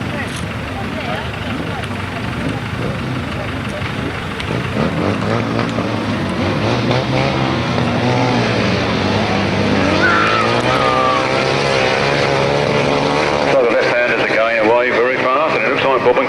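Grasstrack sidecar motorcycle outfits race at a 1991 August meeting in Frittenden, engines roaring loud and continuous with rising and falling revs, while a commentator talks over the noise throughout.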